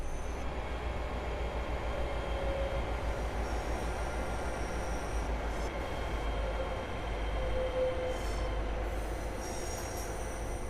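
Class 802 train pulling into platform 7 at Plymouth in Train Sim World 6, a steady rolling rumble under faint squeals and brief high-pitched wheel tones as it eases along.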